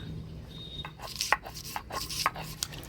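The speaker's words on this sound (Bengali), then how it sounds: "এবার পেঁয়াজ রসুন বাইটে নিই" Onion and garlic are crushed by hand for a home-cooked dish, giving a soft series of gritty scraping and rubbing strokes, close and fairly quiet, with irregular taps and no talking.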